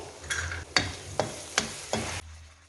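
Green chillies and kasuri methi being stirred into a prawn karahi with yogurt: about five quick stirring scrapes against the pan over a soft sizzle, close and without voices.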